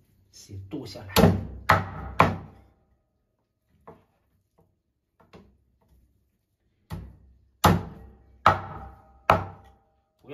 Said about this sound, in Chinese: 现在开始剁这个香麻鸭。